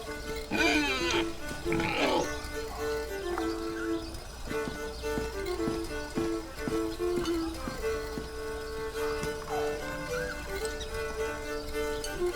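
Pigs grunting and oinking in the fantasy adventure game The Dark Eye: Chains of Satinav, several short snorts scattered over quiet ambient game music.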